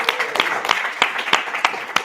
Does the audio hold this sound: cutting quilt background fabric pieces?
no